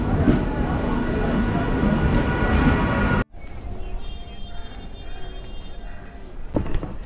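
A train pulls into Halisahar railway station, its loud rumble and clatter filling the platform before a sudden cut leaves quieter rolling noise with faint metallic squeals and station bustle.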